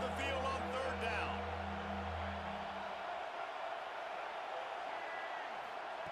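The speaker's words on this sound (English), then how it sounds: "Here comes this home crowd as the defense tries to get off the field on 3rd down." Home crowd noise in a college football video game, Oregon vs UCLA, a steady broad roar under a commentator's voice early on, holding loud as the defense tries to stop a third down.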